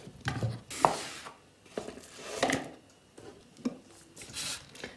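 A knife cuts an onion on a board while vegetables are prepared for cabbage cutlets, a faint series of irregular soft knocks and slices with quiet handling noise between them.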